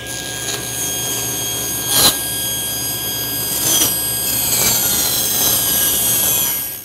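A table saw cuts an eighth-inch-thin strip of wood, giving a loud, close, steady motor whine with a few sharper bursts as the blade bites, with no voices.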